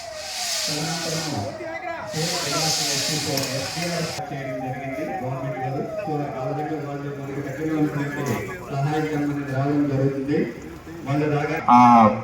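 Fire extinguishers spray during a government disaster mock drill, two sharp hissing bursts near the start, followed by someone speaking at length over the scene.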